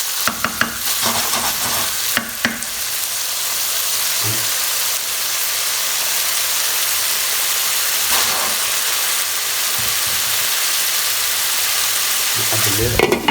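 Tomato puree cooking in a pan for a chickpea and potato curry, a steady close bubbling sizzle and hiss with a few louder stirring clatters near the start and end, no talking.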